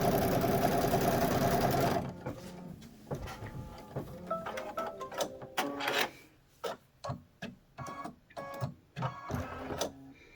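A sewing machine stitches a pieced quilt border seam, running in one continuous whir at first, then breaking into short bursts of stitching with pauses between them.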